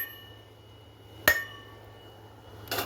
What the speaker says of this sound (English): So now you hit it.